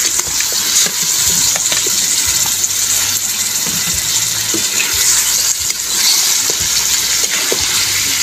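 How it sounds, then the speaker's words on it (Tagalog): Pork bones and fat sauté in a pan with tomato paste for a Filipino home-cooked dish, giving a steady, loud sizzle with bursts of stirring throughout and no talking. "Igisa na po natin ng maigi."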